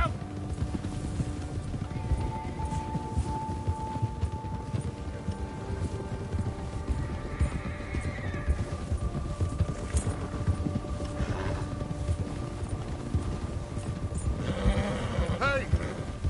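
Horses gallop in the Red Dead Redemption 2 video game, with a steady pounding of hooves, a whinny near the end and men calling out over the riding.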